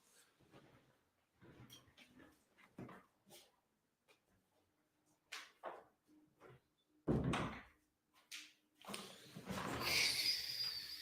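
A door closes in a home, one firm thump standing out amid intermittent household noises and a dog's barks and whimpers, followed by rustling clatter.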